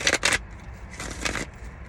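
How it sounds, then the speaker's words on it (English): A deck of playing cards riffles in two quick rasping bursts, then a longer riffle, close and fairly quiet. "I'm just going to shuffle this deck here"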